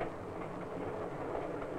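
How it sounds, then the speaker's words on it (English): Passenger train with a dining car rolling steadily on its rails as it nears a station, a continuous rumble heard alone from on board at an even level. "the train is approaching a station"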